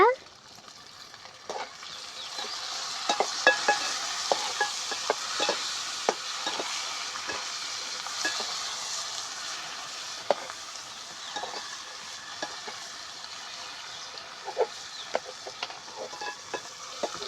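Tomatoes frying in a pan for green pea biryani, a continuous soft sizzle with frequent scraping and clinking stirs throughout, close by and without talk.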